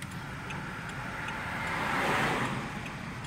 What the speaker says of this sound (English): They got cars coming up again.